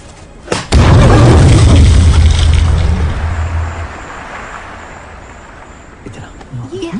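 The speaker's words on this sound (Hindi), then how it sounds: "दूसरा विस्फोट" A deep, booming explosion in a dubbed action film, bursting suddenly and rumbling loudly for a few seconds before fading into a lingering low roar.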